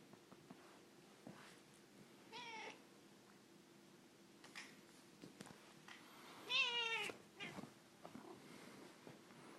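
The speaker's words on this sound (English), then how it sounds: "There's your kitty cat, Tilly." A house cat gives several short, faint meows spaced apart in a quiet room, with one louder, rising cry near the end and light shuffling between calls, no talk.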